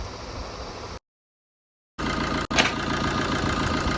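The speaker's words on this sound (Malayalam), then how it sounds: "ഇനിയിപ്പോൾ കവറുമൊക്കെ വെച്ച് സ്റ്റാർട്ടാക്കി നോക്കാൻ വേണ്ടി." A car engine, just back together after a timing repair, idles steadily and close by. The running is cut by a second of silence, then resumes, with a brief click before it settles back into an even idle.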